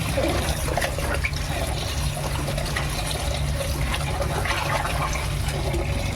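Turmeric roots are washed in water, with a steady, loud splashing and trickling wash of running water heard close up and without pause, with no talking.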